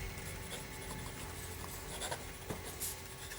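A fast-writing pen moves across smooth paper, a steady close scratching and rubbing that runs throughout without pause, with no talking.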